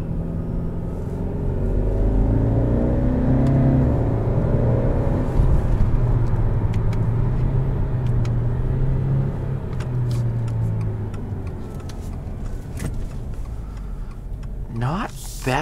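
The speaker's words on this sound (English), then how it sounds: "We go in first gear, put it into second," Steady low engine rumble from a 2021 Subaru Legacy XT Touring as it accelerates through first into second gear, heard from inside the cabin with a brief shift dip and continuous road noise throughout.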